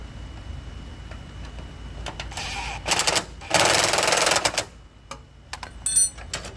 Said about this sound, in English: So the first thing I'm going to do is get my wrench on here.